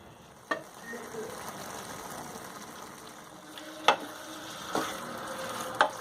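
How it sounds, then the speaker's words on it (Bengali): Grated coconut simmers with nolen jaggery and a little water in a pan, a soft low bubbling with a few sharp spoon knocks against the pan, quiet and close. "এর সাথে মিশিয়ে দেব 500 গ্রাম নলেন গুড়, 2 টেবিল চামচ জল এর মধ্যে দিয়ে ভালো করে মিশিয়ে"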